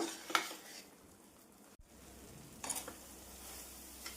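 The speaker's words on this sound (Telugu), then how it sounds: "ఈ నీరంతా కొంచెం ఇంకి గట్టి పడేదాకా మనం మళ్ళీ కలుపుతూ ఉడికించుకోవాలన్నమాట" A thickening sweet sugar mixture cooks in a pan while being stirred, a quiet low sizzle with a few light utensil clinks and scrapes, one near the start and a small cluster later.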